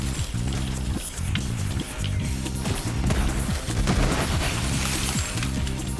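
Borderlands 3 gunfire hits the ground in a dense, continuous barrage of rapid shots and crackling impacts over a constant game soundscape.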